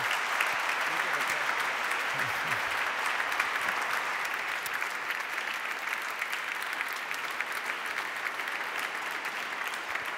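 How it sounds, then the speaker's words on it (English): A debate audience gives a long round of steady applause for Sandy Pentland and Andrew Keen, a continuous wash of clapping in a hall that stays even throughout with no gaps. "please give a round of applause to Sandy Pentland and Andrew Keen"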